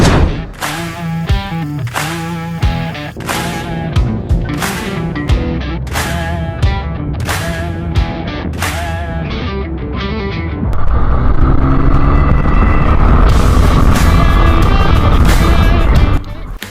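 A Triumph motorcycle with a tuned exhaust is ridden on UK roads, its engine rising and falling in loud pulsing bursts before settling into a steady, sustained roar.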